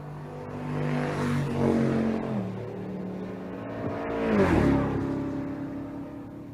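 A turbocharged Chevrolet Tahoe and an S10 launch at a drag strip, engines revving hard and building as they pull away, with a rising roar peaking mid-way through the run, moderately loud and without talk.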